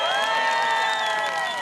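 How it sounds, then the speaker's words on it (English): A local crowd cheers at the Sydney Surf Pro surf contest: a sustained wash of voices with whistle-like tones, steady and loud throughout. "we can hear the cheer from the local crowd"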